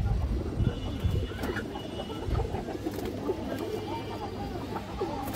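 Pigeons of paired and mixed breeds kept for sale coo steadily at close range, a low continuous murmuring of overlapping calls with no clear breaks.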